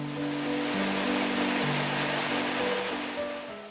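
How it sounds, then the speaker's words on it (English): Sweet flour bean sauce stir-fried vigorously in hot oil for Peking shredded pork, a loud, dense sizzle that holds steady for a few seconds before easing slightly at the end, with no talking. "toss in the sweet flour bean sauce and vigorously stir fry in the oil to bring out the fragrance"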